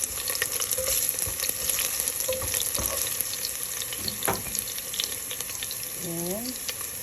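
Garlic fries in a pan with a constant, moderately loud sizzle and occasional stirring clatter. A brief voice sounds near the end.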